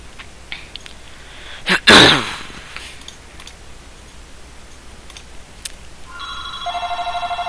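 A telephone rings near the end as a steady electronic trill, after a sharp sneeze-like burst and a quiet stretch.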